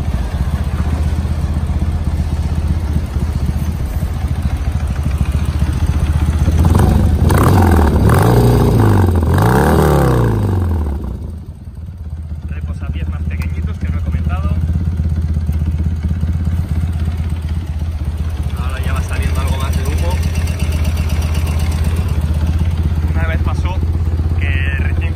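A BMW R100 RS motorcycle engine idling close by and loud, with revving blips partway through and people talking over the steady running.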